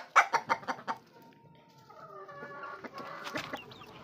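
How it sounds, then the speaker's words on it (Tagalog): Young chickens cluck loudly and close in a quick run of sharp calls, then fainter, scattered clucks and chirps carry on over a quiet farmyard background. "Yan lang pala guys yung mga sisiyo natin."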